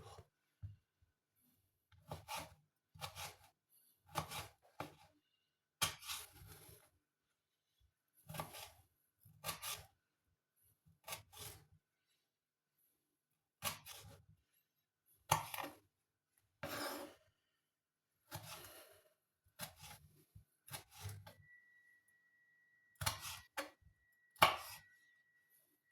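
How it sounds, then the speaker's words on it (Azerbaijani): Tomatoes being chopped on a board for a crab salad, with quiet, close knife taps that come in short bursts separated by pauses. "Bir də pomidorumuzu da doğrayırıq salatımızın üzerine."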